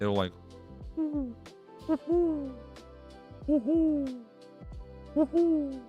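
A person imitates an owl's hoot with their voice, giving several rising-and-falling hoots in a loose rhythm, close and clear, with brief talk at the start.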